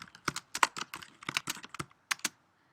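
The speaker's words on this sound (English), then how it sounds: "you would just start typing" Someone types on a computer keyboard, producing a quick irregular run of crisp clicking keystrokes heard up close. A short pause comes in the middle, then a few final taps before the sound stops.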